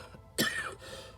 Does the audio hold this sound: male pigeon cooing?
no